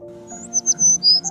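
A sparrow gives a short run of thin, high chirps, a few quick notes close by against a quiet background.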